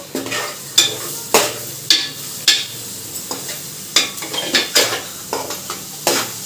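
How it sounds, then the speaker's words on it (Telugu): Cumin powder and masala powder being stirred in a hot pan, with a spoon scraping in a steady series of sharp strokes about twice a second over a light sizzle, close and fairly loud, no talking. "సో ఇప్పుడు మంచిగా మిక్స్ చేసుకోవచ్చు."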